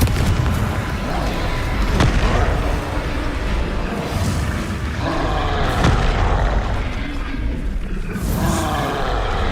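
Confringo fire spell blasts in Hogwarts Legacy on PC, dense booming explosive bursts over a steady rumbling game soundscape with a couple of sharper impacts.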